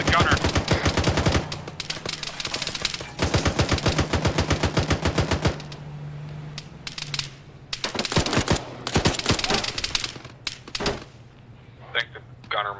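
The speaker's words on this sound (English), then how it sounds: "Take shots at the gunner." Rapid bursts of automatic gunfire in the Arma 3 video game, loud and rhythmic, with several sustained volleys and scattered single shots, and voices talking intermittently.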